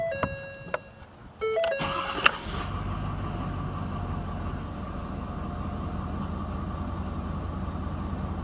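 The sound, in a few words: Ford 6.7L engine idling at 600 RPM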